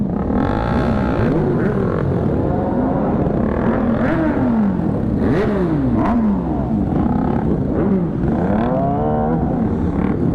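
Several motorcycles rev and ride together on a group charity ride in Dasol, Pangasinan, their engine notes rising and falling in repeated sweeping pitch arcs, loud and continuous with overlapping bikes close by.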